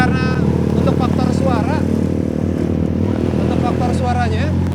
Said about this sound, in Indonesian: karena memang Benelli PS standarnya suaranya juga udah asik gitu, apalagi dipakai knalpot bikinan Street Art, kiri dan kanan menjadi lebih merdu